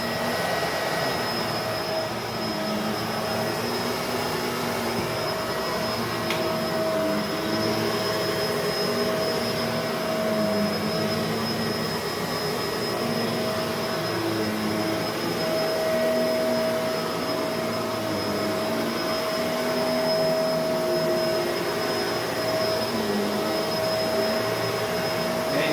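A Bissell MultiClean Allergen Lift Off Pet vacuum cleaner runs steadily with a loud, constant motor whine and airflow roar, close and unbroken throughout, with no talk.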